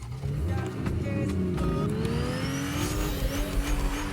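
Cars drive in Fortnite's creative mode, with a continuous loud engine drone that revs upward, plus a few tire squeals and a whooshing pass. No talking.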